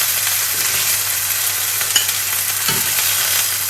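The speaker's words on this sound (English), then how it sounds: "So I'm going to take them out of the pan." Pieces of pork tenderloin fry in a pan with a steady, close sizzle, broken by a couple of brief scrapes and clatters as they are lifted out.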